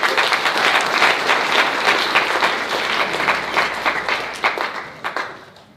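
An audience at a live housing market meetup gives a speaker a big round of applause, loud continuous clapping that thins into a few separate claps before dying away.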